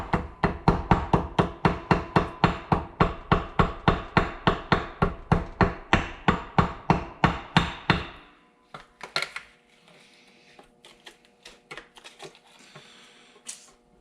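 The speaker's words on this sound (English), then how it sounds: "the smaller ball peen will get into these inside radiuses better" A small ball peen hammer taps out a gasket, working into the inside radiuses: about eight seconds of quick, regular, loud metallic blows close by, then a few scattered quieter taps and handling noise.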